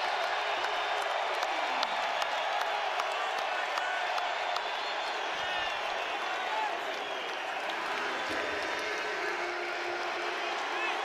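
A Denver arena crowd gives Nikola Jokic a standing ovation, with sustained applause and cheering filling the space evenly for the whole stretch and a commentator's voice faintly over it.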